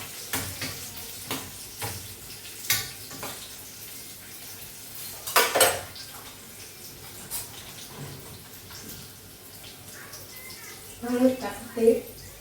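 Cooked dal with spinach is stirred and mixed in a pot, with repeated scraping, clinking of a spoon against metal and a soft bubbling sizzle close by, and someone talking over it.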